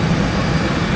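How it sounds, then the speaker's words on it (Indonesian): Airbus A320 of Batik Air at Soekarno-Hatta Airport Terminal 2, Jakarta, giving a steady loud broadband engine roar with a low rumble and no gaps, with no talk over it. "kita akan naik pesawat"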